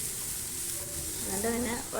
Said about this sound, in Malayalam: തക്കാളി ഇട്ടിട്ട് നന്നായി വയറ്റി